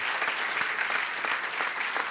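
A crowd at a French public political meeting applauds steadily, a dense, even clapping that holds at the same level throughout the short stretch.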